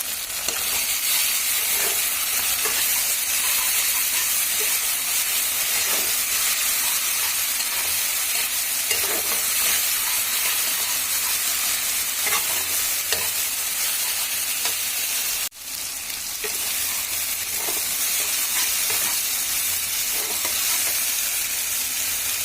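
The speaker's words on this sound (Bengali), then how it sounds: "পেঁয়াজটা ভালো মতন ভাজা হয়ে গেছে, দিয়ে দিচ্ছি মশলা" Onion, ginger, cumin, garlic and green chili paste fry in a pan with a steady, bright sizzle and occasional stirring scrapes, continuous and close.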